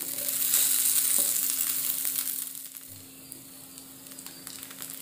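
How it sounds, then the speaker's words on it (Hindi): Big slices of capsicum fry in a pan for a boiled egg chili dish, a steady close sizzle that starts strong and softens slightly toward the end, with faint stirring crackles and no talking. "अभी अच्छे से फ्राई हो गए हैं"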